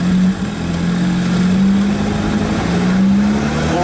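A Zenos E10 S sports car engine pulls away in first gear, a steady loud drone rising in pitch as it accelerates, close and continuous with no talking.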